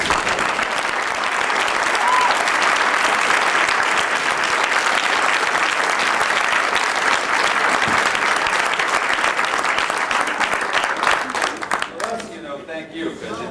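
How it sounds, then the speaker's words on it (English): Sustained audience applause at a speech honoring Edward R. Murrow, a dense steady wash of clapping for about twelve seconds that fades out near the end as it dies down. "And let's just give another round of applause."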